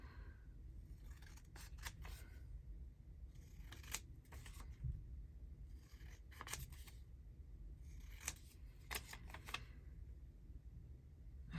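Scissors cutting paper during a craft ephemera session, a run of quiet close snips in irregular clusters, alone with no talking.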